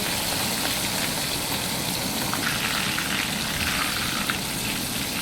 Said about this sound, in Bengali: মাসাল্লাহ মাছটা থেকে ভালোই তেল বেরিয়েছে